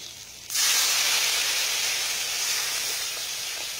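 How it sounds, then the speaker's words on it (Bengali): Spice masala of chili and cumin powder in a hot pan bursts into a loud, steady hiss the moment water goes in, after a half-second of quiet, then holds at a strong, slowly easing steam sizzle. "এবার এটাকে সামান্য জল দিয়ে ভালো করে মশলাটাকে কষিয়ে নেব।"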